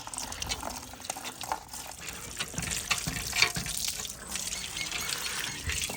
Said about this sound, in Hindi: आप धोएं, आप वो चलाएं नलका, मैं करता हूँ इधर से